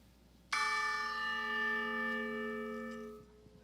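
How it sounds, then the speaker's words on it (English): A single church bell strike rings out clearly, its rich metallic tone sustaining for about three seconds before fading, with no talking. "that is the sound of our gratitude bell"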